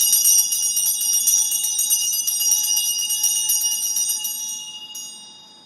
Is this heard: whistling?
no